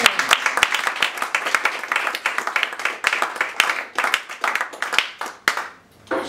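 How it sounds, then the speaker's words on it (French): Applause and scattered hand claps from a comedy show audience, lively and fairly close, with claps pattering irregularly for about six seconds before fading into a brief quiet. "Sous vos applaudissements."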